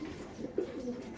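A racer pigeon at a pigeon farm giving a soft, low coo, a short murmuring call close by with no talk.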